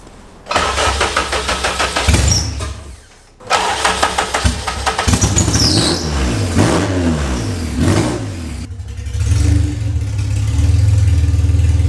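A car engine cranks and fires up after ECU wiring work on a Rywire harness, then revs up and down several times before settling into a steady, loud idle close by.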